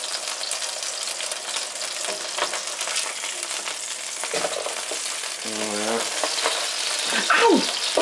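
Burgers fry in a pan with a steady loud sizzle while metal tongs clink and scrape as the patties are turned over, the hissing rising after the flip, with no talk.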